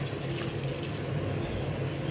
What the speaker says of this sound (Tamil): இந்த ஸ்டேஜில் நம்ம வந்து புளி சேர்த்துக்கலாம்.